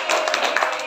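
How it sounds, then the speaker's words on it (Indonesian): A short burst of hand clapping from a few people in a classroom, quick and fairly close, lasting under a second. "Tepuk tangan."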